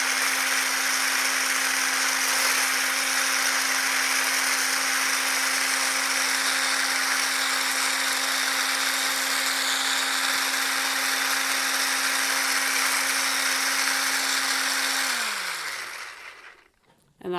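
A Ninja Creami machine churns vanilla protein ice cream with a steady, loud motorized whir that holds an even tone, then winds down and stops near the end.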